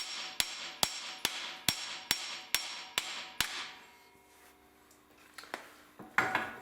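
Sharp metallic hammer blows drive a new bearing into place, eight evenly spaced ringing strikes followed by a few scattered, quieter taps and a final clatter, close up with no talking.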